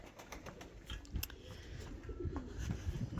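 Pigeons coo softly in low, throaty murmurs, with occasional faint wing flutters and clicks against a steady background hum.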